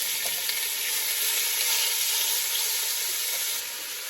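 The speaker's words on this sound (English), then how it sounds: "I'm just going to add in the beef and just seal it on both sides." Beef searing in a pan on an AGA, a steady bright hissing sizzle, close and even throughout, dropping slightly in loudness near the end, with no talking.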